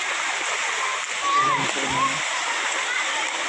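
Waterfall at Udayagiri hill pours in a steady, full broadband rush close by, with a brief voice and faint whistle-like sounds over it midway.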